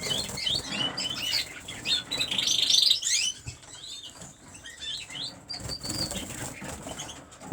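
Cock and hen birds flapping their wings inside an aviary, a soft fluttering patter with scattered high chirps and tweets, fairly close and moderately loud with no talking.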